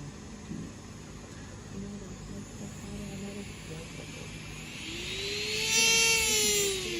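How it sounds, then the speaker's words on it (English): A Marathon Pro electric nail file drill with an extra coarse sanding band whines to life near the end, its high pitch climbing as it speeds up, after a quiet stretch of faint background hum. "This is my Marathon Pro e-file."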